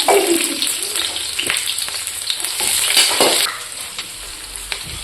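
Onions fry in hot oil left over from making taro-leaf fritters, giving a loud, continuous close sizzle with occasional stirring scrapes throughout.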